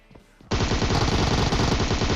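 Sustained automatic Uzi fire in a battle royale shooter game, a loud continuous rattling burst that kicks in suddenly after a brief quiet moment and keeps going without pause.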